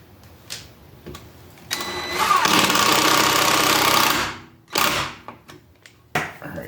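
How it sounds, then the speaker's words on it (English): A power driver sinks sheet metal screws into the board of a DIY 48V 2000-watt electric scooter: one loud, steady whirring run of about two and a half seconds, with a few short bursts and clicks before and after. "we're just going to screw it down with some, just some sheet metal screws"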